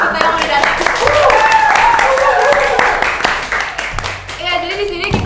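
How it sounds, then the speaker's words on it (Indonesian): An audience applauds and cheers for the hosts of an Indonesian podcast about student internships, a dense burst of clapping with voices calling out over it that fades toward the end. "Mungkin bisa tepuk tangan dulu nggak sih buat kita yang udah datang?"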